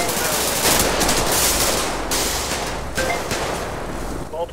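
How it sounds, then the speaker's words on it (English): Dense, continuous automatic gunfire fills a GTA roleplay shootout, with a steady loud roar of overlapping shots and brief faint tones near the end. "Multiple shots fired."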